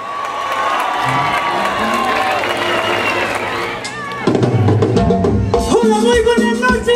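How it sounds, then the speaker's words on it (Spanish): A festival crowd at the final night of Semana Lotina 2016 in Lota cheers and whoops as a cumbia band is welcomed on stage, and the cheering swells louder partway through while a voice is heard over it. "Le vamos a dar un gran aplauso"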